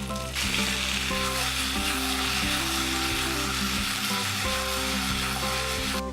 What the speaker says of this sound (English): I'm going to stir the potatoes, and I want them to be nice and golden and cooked through